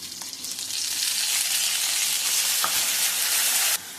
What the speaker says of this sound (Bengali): এখন ভেজে নিব